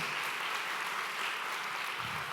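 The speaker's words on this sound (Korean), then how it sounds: "우리 따뜻한 환영의 박수를 한번 같이 맞이할까요?" A church congregation applauds in welcome during a Sunday morning service, a dense, continuous wash of many hands clapping at once, steady and fairly loud in a large room.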